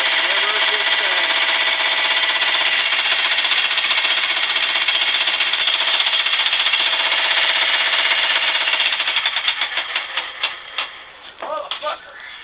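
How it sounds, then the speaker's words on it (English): A plumber's jackhammer, wedged in the material it is cutting, hammers loudly and continuously at close range, then breaks into stuttering, uneven bursts near the end. "Time to get the jackhammer unwedged."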